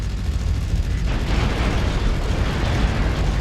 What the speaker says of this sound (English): Oh, ammo explosion.